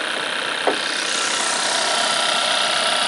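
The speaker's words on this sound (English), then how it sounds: "as you can tell it is a very very quiet engine" Volkswagen Golf 1.4 TSI engine with DSG automatic gearbox idling, a smooth, quiet, steady hum heard close up, with one brief click early on.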